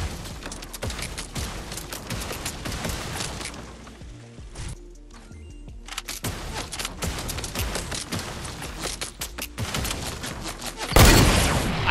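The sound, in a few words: SMG gunfire in video game Fortnite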